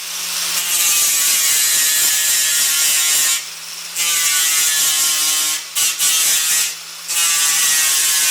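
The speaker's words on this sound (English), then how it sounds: "I'm going to get all the weld sanded down. I'm going to use a 36 grit sanded disc." Angle grinder with a 36 grit sanding disc grinding down welds on the wheel arches of a Mk2 Volkswagen Golf, a loud steady high whine with a few brief pauses and restarts, no talking.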